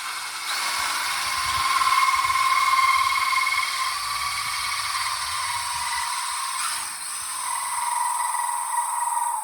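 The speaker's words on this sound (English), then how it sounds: "I want the drill bit do the work." A high-pitched drill boring into wood whirs continuously at close range, its tone wavering slightly as the bit bores in, with no voices.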